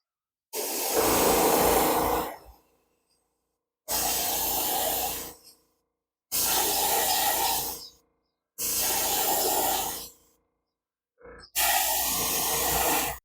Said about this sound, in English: So I'm just going to get my airbrush going, and we're going to paint all of these white.